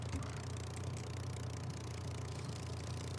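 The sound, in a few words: Spitfire aircraft engine idling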